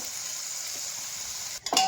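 Loitta fish frying in a hot wok, a steady sizzle that ends with a short clatter and scrape as the pieces are turned.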